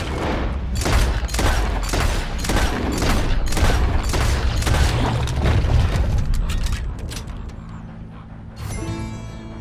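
A loud burst of rapid gunfire from Red Dead Redemption 2 fires in a dense volley of repeated shots with booming tails for several seconds. It fades into quieter mechanical clicks near the end.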